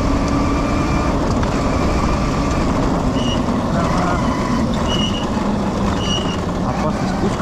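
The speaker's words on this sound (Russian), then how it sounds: "Сейчас мы прохватим колесо на максимальной мощности." An electric ATV in a forest spins its wheel at full power, a loud continuous whirring and grinding roar with a faint high whine, holding steady throughout.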